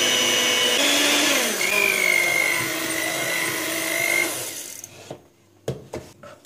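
An electric hand mixer whirs loudly and steadily through chocolate cake batter with baking powder added, its pitch shifting as it works, then switches off, leaving a few clinks and knocks against the bowl.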